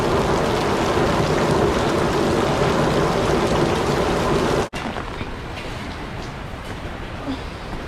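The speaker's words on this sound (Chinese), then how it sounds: "雨是变小了" Heavy rain pours down during a typhoon-like storm, a loud, dense and continuous roar of rainfall close by, broken by one sharp click partway through, with no distinct thunder rumble standing out.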